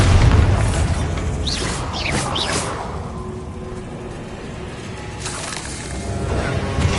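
A Bombarda blasting spell goes off in a wizard video game, a booming burst with rumbling debris and whooshing magical tones that settles into a low rumble before swelling again.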